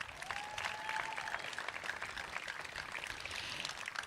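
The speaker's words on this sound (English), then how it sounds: "Let's give them a round of applause." An audience at a National Gun Violence Awareness Day event in Long Beach gives a round of applause, a steady, fairly distant wash of clapping lasting several seconds.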